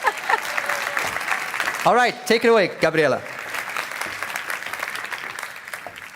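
Audience applause welcoming a moderator on stage at a UNESCO forum against racism and discrimination, steady clapping throughout with someone speaking over it briefly.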